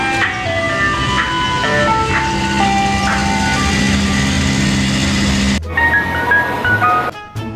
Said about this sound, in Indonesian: Wah, kita menemukan mobil es krim.